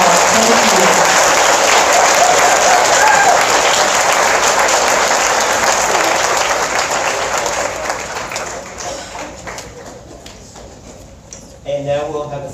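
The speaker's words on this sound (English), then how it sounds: "give all of our former Windsor staff members a round of applause" Loud, steady audience applause for former school staff at a school's 50th anniversary celebration, sustained for several seconds before fading, with a brief burst of noise near the end.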